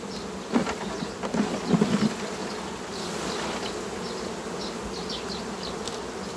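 A dense, steady hum of honey bees from an opened hive colony holds at an even level throughout, close and continuous, with a few faint clicks and handling sounds near the start.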